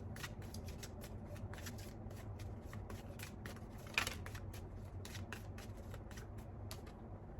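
Tarot cards being shuffled by hand: a rapid run of crisp, papery riffles and flicks that repeat steadily and close up throughout, with one slightly louder slap in the middle and no talking.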